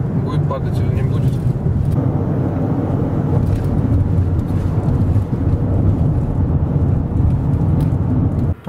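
Steady low rumble of a Kia Sorento Prime driving on the road, continuous engine and tire drone heard from inside the cabin, even and unbroken throughout.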